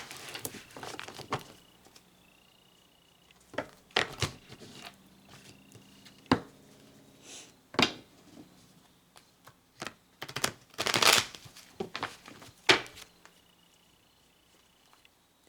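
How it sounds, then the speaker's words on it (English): Close, dry rustling and crisp snapping bursts of a tarot deck being shuffled, in irregular clusters with quiet pauses between them. "I'm going to do a few shuffles to get these mixed up"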